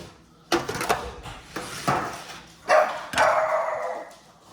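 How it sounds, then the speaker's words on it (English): A dog barks in a kitchen during meal-kit cooking prep, several sharp separate barks spread over a few seconds, fairly close and loud, with no talking. "Please mind my dog."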